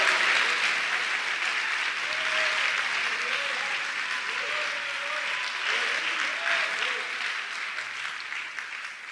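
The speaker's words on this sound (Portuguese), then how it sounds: "Bate palmas para esse Deus vivo." A church congregation applauding, a dense and continuous wash of clapping that holds steady throughout, with faint voices and a preacher speaking underneath.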